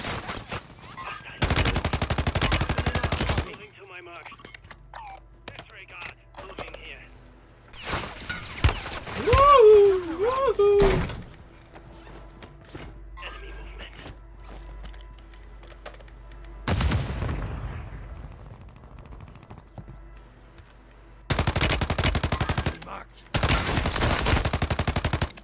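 Bursts of automatic gunfire from the Warzone video game on the Fortune's Keep map, several loud sustained volleys spread across the stretch with quieter gaps between them, while players talk at intervals.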